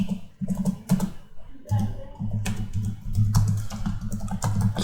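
Computer keyboard typing, close and clear, in quick bursts of clicking keys separated by short pauses, with faint speech mixed in.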